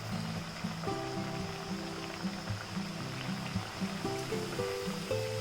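Pressed whole-wheat batura dough fries in hot oil, giving a steady, close bubbling sizzle that runs without pause and without voices.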